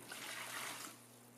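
Salt water pouring into a beaker during a saltwater aquarium water change, a steady close trickling splash that runs for about a second and then eases off into a quieter flow.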